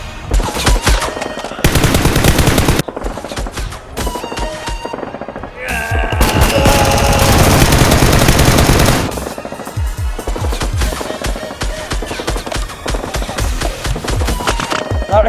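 Loud, close bursts of rapid automatic gunfire during a Nerf gun fight, with long sustained volleys broken by short pauses.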